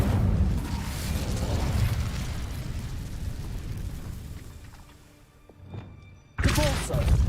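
Incendio fire spell cast in Hogwarts Legacy, a loud roaring whoosh of flame with thumping bursts that fades, then a short quieter gap before another loud blast erupts at the end.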